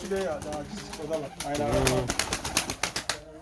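A pigeon coos in soft repeated phrases at close range, followed by a quick series of rapid taps or flutters.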